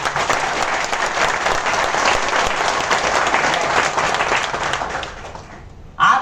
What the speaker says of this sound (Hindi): तो एक बार जोरदार क्लैपिंग।